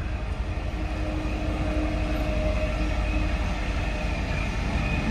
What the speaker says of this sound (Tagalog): May dumadaan na train. Ang haba-haba.